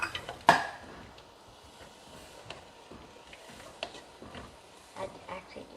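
Diced onion is stirred in a pan with a utensil, giving a sharp metal clank at the start followed by soft scraping and light knocks, with quiet talk nearby.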